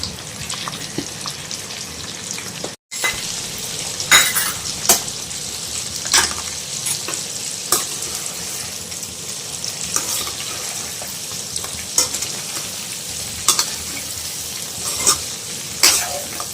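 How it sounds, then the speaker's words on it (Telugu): Stuffed brinjals sizzle and fry steadily in oil for a Gutti vankaya masala curry, with repeated scraping stir strokes and clinks of a utensil against the pan breaking through the constant crackle; a brief gap interrupts early on. "మొత్తం నూనెలో ఇట్లా ఫ్రై కావాలి"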